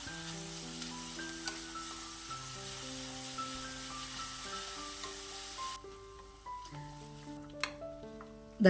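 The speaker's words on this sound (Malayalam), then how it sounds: "ഇനി സവാളയൊന്ന് വഴറ്റിയെടുക്കണം." Chopped onions sauté in a pan for vada curry, giving a soft, steady sizzle with occasional stirring clinks. The cooking sits quietly beneath louder background music with sustained tones.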